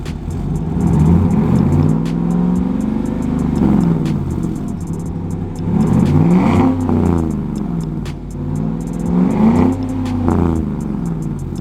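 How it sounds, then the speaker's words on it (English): A 2015 Chevy Silverado pickup engine with a Flowmaster exhaust revs repeatedly, rising and falling in several rounds, with a deep, throaty exhaust rumble close up between revs. "we did an exhaust on this truck. We did the Flowmaster."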